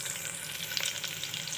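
Sliced bitter gourd fries in hot oil for a biryani, giving a steady, close hiss and crackle that runs unbroken throughout with no voices.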